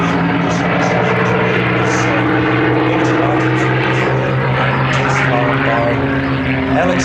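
A Spitfire engine at an airshow roars in a loud, sustained propeller drone with steady tones holding throughout.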